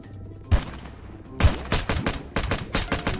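P90 submachine gun firing in the Roblox game Oil Warfare Tycoon: two isolated heavy shots, then a rapid burst of close, loud automatic gunfire rattling steadily to the end.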